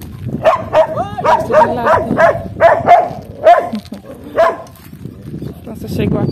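Several dogs bark repeatedly in a rapid, loud, close series with some yelping, while a person talks briefly over them before the barking fades.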